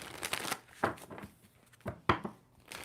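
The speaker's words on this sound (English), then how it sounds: "2 more shuffles for Virgo." Tarot cards are riffled and shuffled in several quick bursts, crisp fluttering snaps close to the ear with short pauses between them.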